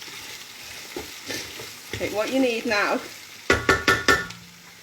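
Kofta meatballs sizzle and brown in a hot aluminium pan for a homemade meatball curry, with steady frying hiss, several sharp knocks of stirring near the end, and a person talking over it.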